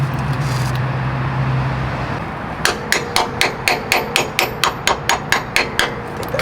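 Rhythmic hammering drives a new axle seal into the rear axle housing of a Grand Marquis, about a dozen sharp metallic strikes at a steady pace, close and loud, following a stretch of low mechanical hum.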